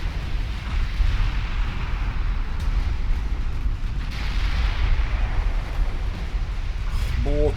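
Heavy 19-inch naval guns fire and shells strike a ship in the naval battle game Ultimate Admiral Dreadnoughts, a dense, continuous rumble of booms and impacts with someone talking over it.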